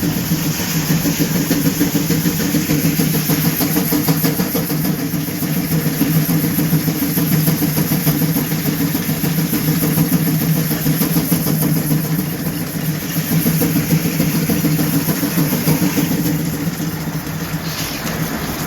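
A Cub tractor engine running steadily at the Pioneer Power tractor show in Eagleville, Tennessee, a close, loud, continuous chugging drone that holds an even pace throughout.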